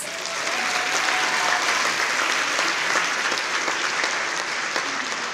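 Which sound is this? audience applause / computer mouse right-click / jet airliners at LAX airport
audience applause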